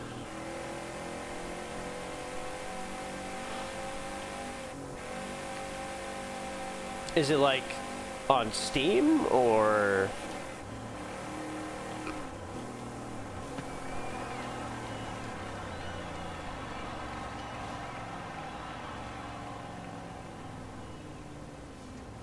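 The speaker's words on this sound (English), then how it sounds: "let's take an 18-wheeler transport truck engine and shove it inside of a little buggy" A video-game buggy fitted with an 18-wheeler transport truck engine revs in a loud, rising burst of a few seconds mid-clip, heard under ongoing conversation and steady background sound.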